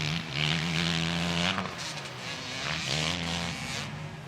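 Kove MX450 Chinese dirt bike at full race pace, its single-cylinder engine revving hard with a loud, steady buzzing note that drops briefly around a gear change and then climbs again.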